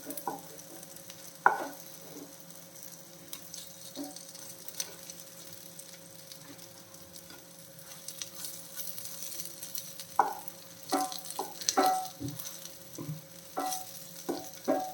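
Brinjal (eggplant) slices frying in a pan, a steady oily sizzle with occasional clicks and scrapes as the pieces are turned, close and alone, with no talking.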